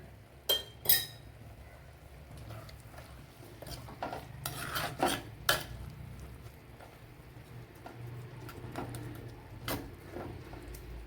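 Onion aviyal stirred with salt in a pan, soft scraping and a few sharp metallic clinks of the spoon against the vessel, quiet and close over a low background hum, with no voices.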